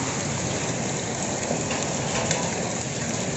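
Heavy rain pours down steadily in a dense, unbroken hiss close by, with no voices and no letup from start to finish.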